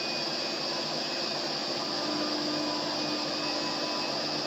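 Milling cutter machining a 1964 Corvette fuel injection fitting, a steady, loud high-pitched whine and hiss of the spinning cutter with no breaks.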